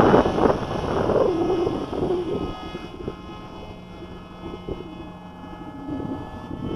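An MIA EZ Gyro 1.0 RC autogyro flies slowly outdoors on low battery, its small electric motor giving a thin, steady whine. The whine sits faintly under wind noise and louder handling sounds near the start.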